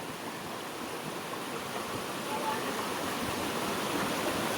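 A full stream of flowing water rushes in a continuous broadband roar, loud and close throughout with no break.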